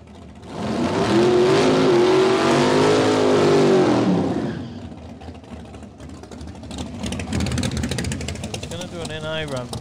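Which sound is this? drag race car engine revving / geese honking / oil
drag race car engine revving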